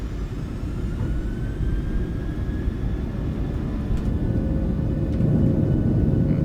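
Twin jet engines of a PMDG Boeing 737-700 in Microsoft Flight Simulator 2024 on the takeoff roll, a loud steady broadband roar and low rumble that builds slightly toward the end, with no talking.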